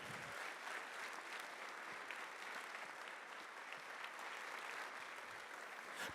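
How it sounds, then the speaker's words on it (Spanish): A church congregation at a general meeting claps steadily and evenly for several seconds, a soft, continuous patter heard from a distance with no voices over it. "Un aplauso fuerte."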